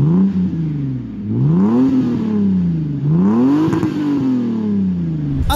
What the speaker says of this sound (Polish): jak brzmi wolno ssący 2JZ?